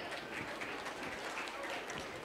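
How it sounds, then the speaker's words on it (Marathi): At a school gathering, an audience applauds after a Mangala Gaur dance, a dense, even wash of clapping heard from a distance that holds steady throughout. "एकदा जोरदार टाळ्या होऊन जाऊ द्या"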